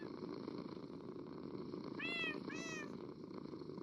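Cats in the video game Minecraft meow twice in quick succession, a pair of clear rising-falling calls standing out over a steady background hum and soft purring texture, with no talking.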